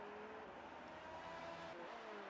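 A McLaren Formula 1 car in the F1 2018 racing game, engine whining at a high steady pitch as it drives past, the tone sliding slightly downward, fairly faint under a constant background roar.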